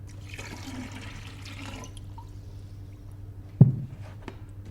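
Water being added to a tank to make pulp from wood, a soft steady rush and trickle of pouring liquid low in level, with a single brief splash or knock near the end.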